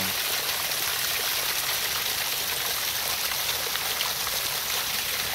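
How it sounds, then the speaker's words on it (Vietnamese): Naturally heated hot spring water streaming steadily at a constant level, a dense broadband rush of flowing water with no voices. "Đây là nước nóng tự nhiên."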